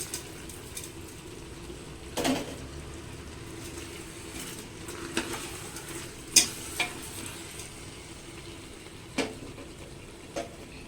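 Mushroom kurma masala with rock salt fries in a pan, a steady close sizzle with scattered clicks and scrapes of stirring and no voices.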